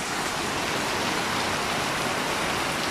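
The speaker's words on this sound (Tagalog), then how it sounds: "Sobrang lakas ng ulan." Heavy morning rain pours down steadily, a dense, continuous hiss of drops striking surfaces close by, unbroken and loud for the whole stretch with no voices.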